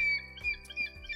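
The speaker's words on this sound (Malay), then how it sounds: "bunyi burung-burung yang berkicauan" Small birds chirp in short, faint tweets against a steady tonal background, with a few quiet low thumps between the calls.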